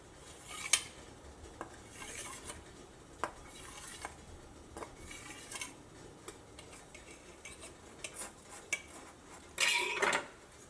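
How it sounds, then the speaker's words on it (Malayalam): Thin steamed rice ada being lifted off a steel plate while palada pradhaman is made, with metallic scrapes, taps and clinks of a utensil on steel, irregular and close, ending in a louder scraping burst. "ഇനി ഇത് പാത്രത്തിൽ നിന്ന് എടുത്ത് മാറ്റാം."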